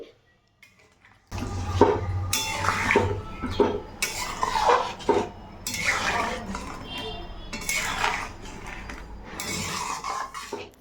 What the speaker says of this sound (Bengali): এরপর দিয়ে দেবো কিছুটা পরিমাণে গরম জল